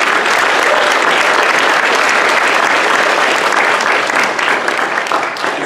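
Loud, dense applause from a convention crowd at an Anime Expo panel with the Lab Zero team, a sustained wall of clapping close and even throughout.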